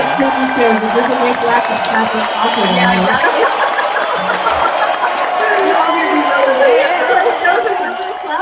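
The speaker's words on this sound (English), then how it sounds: "Let's give him a real Bugle Boy applause." An audience at a live acoustic music performance applauds and cheers steadily throughout, with voices and chatter mixed into the continuous clapping.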